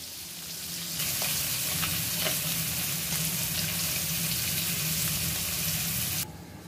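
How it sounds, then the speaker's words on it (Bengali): Swamp barb (sarputi) fish fry in hot oil for a mustard chochchori, giving a loud, steady broadband sizzle that swells after the first second and holds evenly with faint crackles, no talking. "সরপুঁটি মাছগুলো ভেজে নিচ্ছি, রান্না করব"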